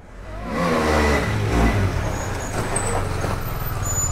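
A KTM Duke 390 motorcycle fitted with a Z900 full-system exhaust revs hard during a wheelie. The engine rises in a loud, rough growl, then holds a throaty drone outdoors.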